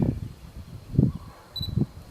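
Camera shutter firing on a tripod during a slow exposure while taking bracketed HDR shots, giving a few soft mechanical clicks spaced about a second apart, close and fairly quiet, with no talk.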